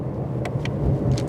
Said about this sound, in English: you can still hear the rumble of that exhaust